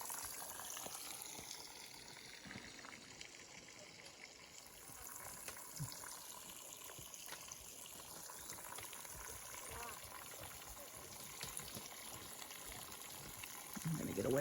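Faint trickling water running down a moss-covered mountainside on the Appalachian Trail, a soft continuous wash with a faint hum underneath, no talk.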